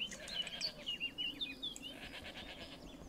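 Sheep bleat in the video game Minecraft, played with the Dawn Craft modpack: a run of quick, wavering bleats, fairly faint and close together, fading out toward the end with no talking.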